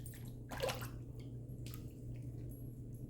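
Running water rinses a Deacon Rocks Pearl Flexi safety razor under a tap, with a steady faint splashing stream and a couple of brief louder gushes as the razor passes through.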